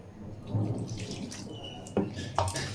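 Water poured into semolina dough in a home kitchen, a steady close trickle and splash with a few brighter drips and spatters toward the end.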